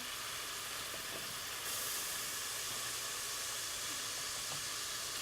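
Venison for chilli browning in a pan gives a steady broadband hiss of sizzling meat, even and unbroken, swelling slightly partway through.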